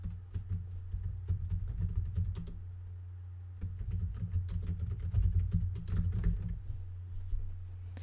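Fingers type on a computer keyboard in quick, uneven bursts of close clicks, pausing briefly midway, over a steady low background hum.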